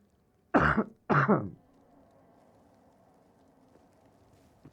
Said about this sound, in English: Even coughing is painful.